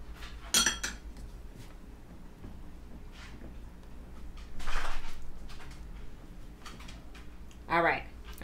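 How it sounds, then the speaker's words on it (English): Barbecue sauce ingredients with spicy brown mustard being stirred in a bowl, giving soft scraping with a few sharp utensil clinks near the start and end, fairly quiet. "Give that a good mix."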